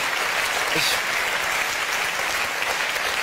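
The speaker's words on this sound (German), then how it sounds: "Ich ich weiß jetzt wirklich nicht, warum Sie hier klatschen" A studio audience at a German cabaret show breaks into sustained, dense applause, a loud wash of many hands clapping steadily with no break.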